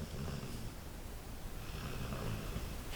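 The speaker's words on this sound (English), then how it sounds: "She's snoring." A woman snores softly, slow breathy rasping rising and falling in a quiet room, faint and close with no talk.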